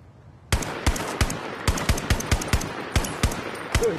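Single-fire gunshots in the Zero Caliber 2 VR game, a dozen or so sharp individual shots at an uneven, fairly quick pace, close and crisp over a faint background.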